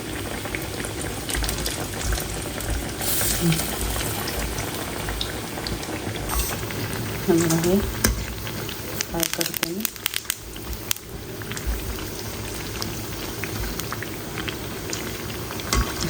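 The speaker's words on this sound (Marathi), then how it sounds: "आता आपण स्लो गॅसवर येणं याला फ्राय करून घेऊ" Mixed dal vadas frying in oil over a low gas flame, giving a steady, soft bubbling and crackling hiss that continues evenly throughout.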